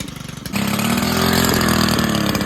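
A STIHL KM110R small two-stroke engine idles close by after high and low mixture screw tuning, a steady buzzing drone that rises and holds after a brief rougher start.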